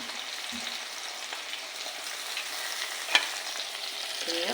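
Shallots, garlic and green chili frying in hot oil for a stingray curry, a soft continuous sizzle with faint stirring clicks and a brief sharper tap, close but fairly quiet.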